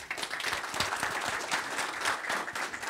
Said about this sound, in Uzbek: Mana shu yigitlar uchun bitta qarsak chop qo'yaylik.